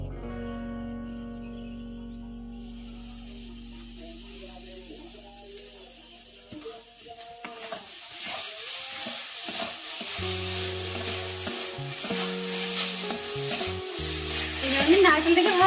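Grated coconut being stirred into sugar caramel in a pan, starting quiet with a faint tone, then growing into a steady sizzle with scraping stirs and a rising bubbling hiss toward the end.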